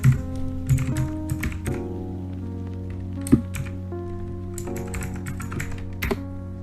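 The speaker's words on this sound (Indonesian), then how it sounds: "jika kita mengetik ipconfig release" Computer keyboard keys clatter in quick uneven bursts as a command is typed, crisp nearby taps over a steady electrical hum, with one sharper keystroke partway through.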